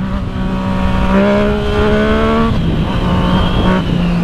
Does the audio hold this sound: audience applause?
no